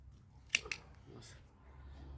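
Pruning shears snip a thick, overgrown peach tree branch in an orchard, two quick sharp clicks close together standing out over low background rumble.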